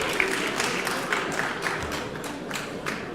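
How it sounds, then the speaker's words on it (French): Applause for a golf champion of the Landes at an awards evening, a steady dense patter of many hands clapping at even loudness throughout. "on peut l'applaudir"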